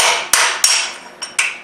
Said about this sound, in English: you take a big old long drift like this, stick it inside, you've got to knock the race out, good size hammer